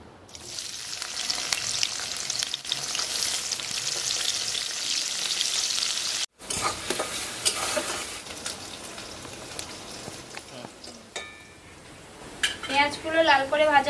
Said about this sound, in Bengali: পেঁয়াজগুলো লাল করে ভাজা হয়ে গেছে,